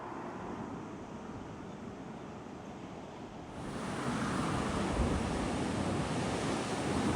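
Ocean waves crash onto the shore right beside a convenience-store parking area in Japan, a steady loud surf wash that swells louder halfway through, with wind noise and no voices.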